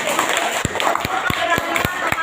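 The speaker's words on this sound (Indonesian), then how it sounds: "Mohon tepuk tangan dong." A small audience claps. Separate, sharp hand claps come at an irregular pace while people talk and chatter in the background.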